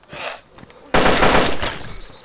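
Gunfire in DayZ, with a quieter muffled burst first, then a loud, close, sustained rattle of rapid shots that cuts off and briefly resumes at the end.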